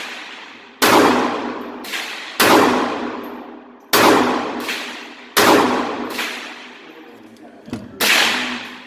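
A Ruger LCP2 pistol firing at an outdoor range, five sharp loud shots in an uneven rhythm, each followed by a ringing decay, with a brief soft clank between.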